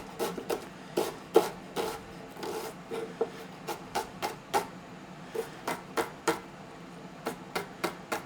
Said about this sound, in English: Cut all the way to the root, but not through. And then I cut across.